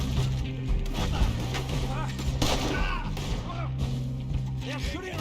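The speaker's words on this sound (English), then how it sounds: "They're shooting right at me!" Gunfire in the Red Dead Redemption 2 game, a steady stream of shots and impacts with a low musical drone underneath, while someone talks excitedly throughout.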